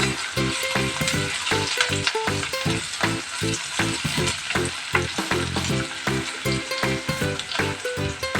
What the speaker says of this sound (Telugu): ఇందులోనే మనం ముందుగా వంకాయతో పాటు ఉడికించిన కాల్చిన పచ్చిమిరపకాయలు వేసుకుందాం. ఇది బాగా ఫ్రై అవ్వాలి.